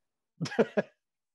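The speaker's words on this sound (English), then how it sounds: "Oh, she's coughing." A woman coughs three times in a short burst, close and fairly soft, against silence.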